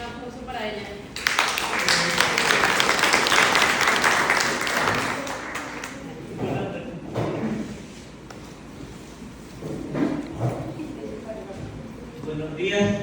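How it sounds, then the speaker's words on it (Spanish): An audience at a public land-registry outreach event applauds with a dense burst of clapping lasting several seconds. It then fades into scattered claps, with voices speaking around it. "Un aplauso para ella."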